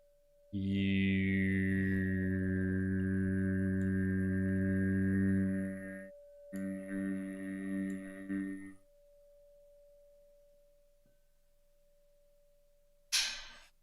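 During a guided breathwork meditation, a group chants a long, sustained 'U' tone with a rich, even hum, followed by a shorter, wavering tone that fades into near silence and ends with a brief noise.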